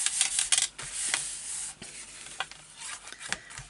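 Paper being burnished down along a folded edge on a handmade flip-style mini album: short, dry rubbing and rasping strokes, close and fairly quiet, coming in quick bursts with brief pauses.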